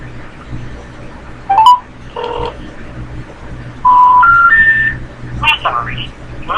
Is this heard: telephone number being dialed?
yes